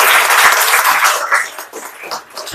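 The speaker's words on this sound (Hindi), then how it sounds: "एक बार जोरदार तालियां बजाइए।" An audience at a district office event gives loud applause, strong clapping at first that thins out and fades into scattered claps over a couple of seconds.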